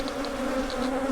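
Bees from a disturbed hive inside a wall give a dense, steady buzzing drone, close and fairly loud, with no talking.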